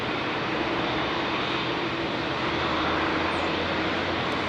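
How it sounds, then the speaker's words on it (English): A Delta Boeing 767-400 at London Heathrow gives off a steady, fairly distant jet rumble and hiss, unbroken throughout with no one speaking. "Is that a Delta 764 coming out?"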